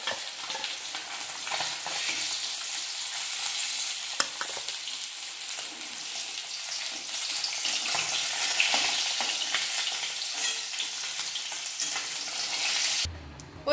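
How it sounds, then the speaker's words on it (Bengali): Rohu fish pieces fry steadily in hot oil as they are flipped, a continuous close sizzle with scattered stirring clicks, cutting off abruptly near the end. "মাছগুলো এখন আমি একটু উল্টে পাল্টে দিচ্ছি। মাছগুলো ভাজা হয়ে গেছে"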